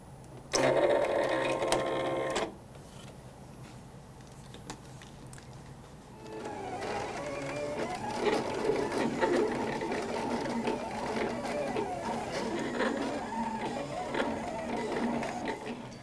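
A Silhouette print-and-cut machine working a printed sheet: a brief loud whirring motor burst at the start, then after a pause a continuous mechanical whir and buzzing of the carriage moving and cutting, close and steady.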